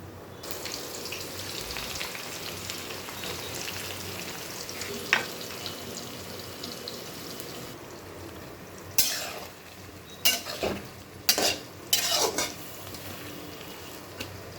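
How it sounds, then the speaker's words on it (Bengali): Onion, tomato and green chilli fry in hot Fortune rice bran oil with dried red chillies, a soft continuous sizzle broken later by several sharp clattering stirs of a utensil against the pan. "তেল গরম হয়ে গেছে। এখন আমি পেঁয়াজ, টমেটো, কাঁচামরিচ ব্যবহার করব।"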